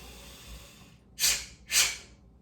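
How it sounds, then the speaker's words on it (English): Nasal breathing exercise: after a quiet, faint inhale, two sharp, forceful snorting exhales burst out through the nose about half a second apart, close and loud, with no voice. "it's going to be deep breath in, pause, with the percussive breath"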